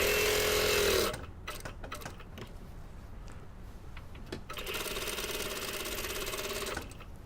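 Sewing machine stitches a facing onto a jeans pocket bag in two steady, rapid runs, one brief at the start and a longer one later, with a quieter gap of handling noise between them.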